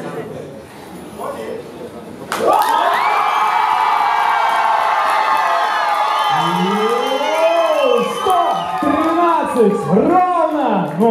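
A crowd at a dance competition final erupts in loud cheering, with rising and falling whoops and shouts piling over a sustained roar of voices that carries to the end.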